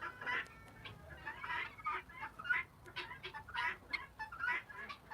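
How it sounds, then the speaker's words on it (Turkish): Several free-range village chickens cluck and chatter in short, overlapping bursts in the evening, fairly close, with a steady murmur of farmyard noise underneath. "kırma tavuklarımız, köylü diye tabir ettiğimiz"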